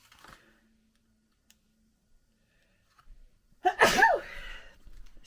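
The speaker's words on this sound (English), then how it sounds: "Hold on, guys, I'm going to sneeze." A single loud sneeze bursts out after a few seconds of near silence, close by, preceded by a faint click or two.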